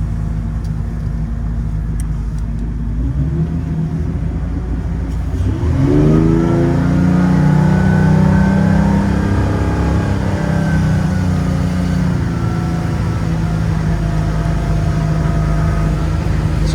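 Mercruiser 4.3L MPI 220HP engine on a Cobalt 200 bowrider, trimmed down, throttles up from a steady idle into a loud, rising roar that climbs in pitch as the boat gets on plane, then holds a strong drone.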